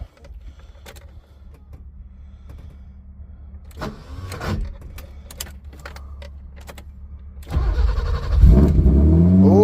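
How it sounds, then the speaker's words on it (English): A 1985 BMW E30 325e with a 2.7L M20 inline-six and a rebuilt in-tank fuel pump: quiet clicks and a low pump hum, then the engine cranks, catches and runs loudly near the end, up close. "We're about to check and see if this completely rebuilt and remanufactured fuel pump in tank is gonna work."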